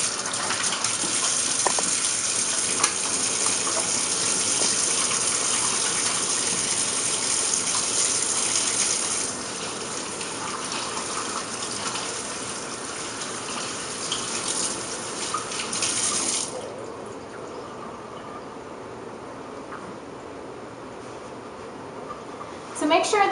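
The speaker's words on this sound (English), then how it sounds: "wash your hands and get them nice and clean with soap and water and dry them off." Tap water gushes steadily into a sink while hands are washed with soap. The broadband rush runs for about sixteen seconds, eases partway through, then cuts off and leaves a quieter tail.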